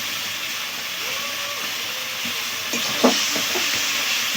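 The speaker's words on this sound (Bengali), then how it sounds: "দিয়ে আবার সব কিছু 1 মিনিটের মতো ভালো করে কষিয়ে নেব।" Spices with turmeric powder and chopped tomato are stirred and sautéed in a pan. A steady broadband sizzle and hiss runs throughout, with faint scraping strokes and one sharp clack near the end.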